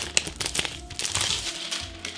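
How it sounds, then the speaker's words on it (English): Cheap Temu F1 merchandise is pulled out of a plastic bag, and the thin plastic crinkles and rustles in close, irregular bursts across the moment. "So we take it out of the plastic bag."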